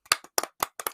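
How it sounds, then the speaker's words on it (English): A few people clap in a small, sparse round of applause, four distinct bursts of quick claps spaced across about a second, close and fairly dry. "full round of applause, everyone."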